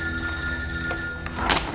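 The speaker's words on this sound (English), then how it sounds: "the break came in the way of a phone call" Telephone bell ringing loud and close, a sustained metallic trill with steady tone, heard alone.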